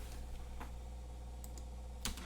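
A computer keyboard is tapped during surveying calculation software work, a few faint isolated clicks over a quiet low hum, with one sharper key press near the end.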